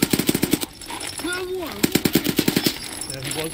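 Automatic gunfire in Escape from Tarkov as a whole magazine is emptied, rapid loud bursts in two strings with a short pause between, while a voice talks over the shooting.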